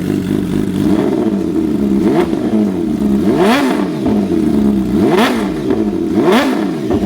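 Motorcycle engine warming up, loud and close, revving repeatedly with rising and falling pitch sweeps over a steady rumbling idle, no talking.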